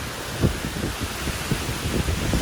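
Strong gusting wind blowing dust at the Celilo Recreation Area, a loud continuous rushing roar with buffeting thumps against the microphone.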